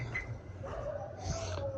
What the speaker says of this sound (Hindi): तो भाई इस कुत्ते ने परेशान कर दिया वहाँ पे बैठे बैठे, भौं भौं भौं।